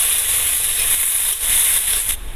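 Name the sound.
onions frying in a pan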